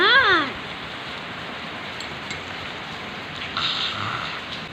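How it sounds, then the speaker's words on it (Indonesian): Steady rain falls heavily and continuously close by, a dense even hiss throughout, with a brief bird chirp at the start and a slight swell of sound near the end. "hujannya juga udah mulai reda"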